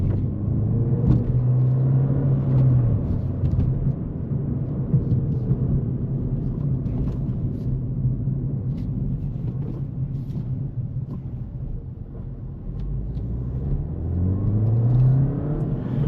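A Ford Fiesta ST hot hatch drives steadily with a low engine hum and road rumble, the revs rising briefly near the start and again toward the end.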